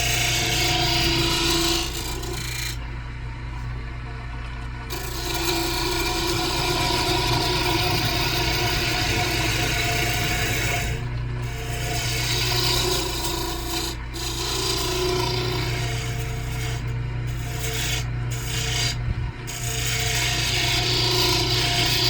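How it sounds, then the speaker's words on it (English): A hand gouge scraping across the top of a wooden rook chess piece being turned, a steady rough rasping that runs almost continuously, broken by a few brief gaps. "I'm running my gouge across the top of the piece,"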